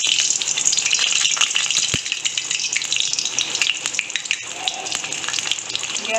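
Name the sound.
stuffed pointed gourd (potol) deep frying in oil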